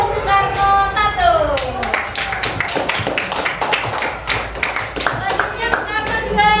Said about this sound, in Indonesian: Kita beri tepuk tangan dulu untuk Soekarno 1.